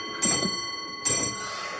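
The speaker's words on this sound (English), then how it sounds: "and a clock that chimes." Two bright metallic chime strikes about a second apart, each ringing with sustained tones that slowly decay, fairly close and clear.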